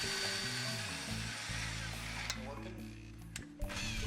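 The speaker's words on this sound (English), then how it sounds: "I'm drilling a small pilot hole all the way through the bolt" A power drill whines steadily at close range, drilling a small pilot hole through a BMW brake rotor retention screw with cutting oil, its pitch wavering slightly as it bites into the metal, with a few small clicks near the end.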